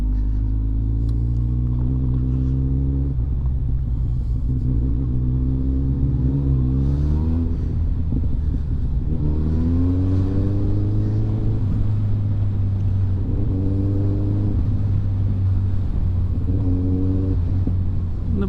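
Motorbike ridden over bad, unmaintained roads, the engine note rising and falling through repeated gear changes and bursts of acceleration over a constant low rumble, loud and close with no speech.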